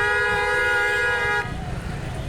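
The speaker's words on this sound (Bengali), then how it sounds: "এত পরিমাণ হর্ন কেন রে ভাই, ভালো তো লাগে না।" A vehicle horn blares in traffic, one loud sustained honk held for over a second before cutting off to a low road rumble.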